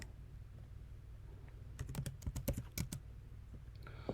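A burst of computer keyboard typing rattles off a quick run of keystrokes in the middle stretch and then stops. Low, steady background hum continues throughout.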